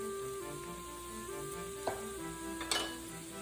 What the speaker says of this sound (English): We'll give that a stir and let it soften for a couple minutes